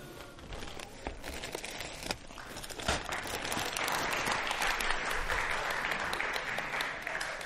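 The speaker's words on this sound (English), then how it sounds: "This gets applause." Students applaud in a university lecture hall during a machine learning class, scattered claps swelling into fuller, steady applause with light crinkling and rustling mixed in.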